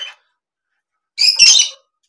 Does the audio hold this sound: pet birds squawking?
yes